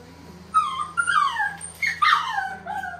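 A dog yelps and whimpers in a series of high, wavering cries while being groomed with clippers, several sharp yips rising and falling over a low steady hum, no talking.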